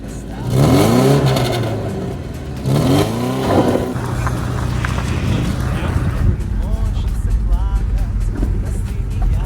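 A car engine revs hard twice in rising surges, then settles into a lower steady drone as the car pulls away, close and loud, with voices over it.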